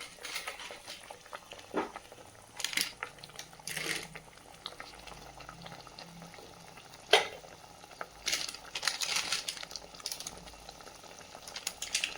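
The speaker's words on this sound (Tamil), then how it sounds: "இது நல்லா கொதிக்கட்டும்." Soft bubbling of a fish curry simmering in a pot on the stove, with occasional clinks of utensils and brief louder splashes.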